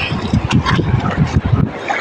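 Wind blows across a fishing boat out on the Red Sea during crab catching, a steady, gusty rumble that stays close and fairly loud throughout with no pauses.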